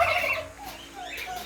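Broad-breasted white breeder turkeys call and gobble close by, a burst of overlapping bird voices at the start that settles into softer, scattered calls.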